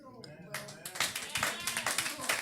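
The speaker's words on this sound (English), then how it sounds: "You can clap for that." Clapping rises from an audience at a community listening session on reparations, scattered claps swelling into steady applause at moderate distance, with voices underneath.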